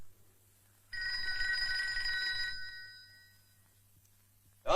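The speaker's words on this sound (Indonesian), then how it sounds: "Don, telepon bakal lo nih, Don." A telephone bell rings in one bright, sustained burst of about two seconds, then fades away in a quiet indoor room.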